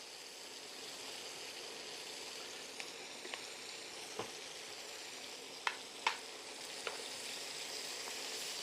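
Onions sizzle steadily in oil in a pan while smothered pork chops are being made, a constant close frying hiss with a few sharp pops and crackles scattered through.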